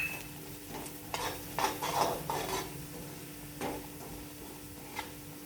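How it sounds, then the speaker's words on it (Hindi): Semolina fries in hot ghee while a spoon scrapes and stirs it around a pan, giving a soft steady sizzle broken by irregular metallic scrapes and clinks, close by with no voices. "अब घी गर्म हो गया है, उसमें सूजी डालने का और डाल के फ्राई करने का।"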